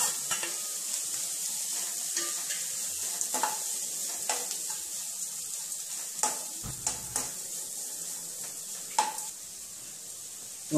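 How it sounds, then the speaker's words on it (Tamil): Grated coconut sautéing in a pan, a continuous close sizzle with scattered clicks and scrapes of a spoon stirring through it, no voices. "தேங்காய் போட்டு வதக்கிடுங்க."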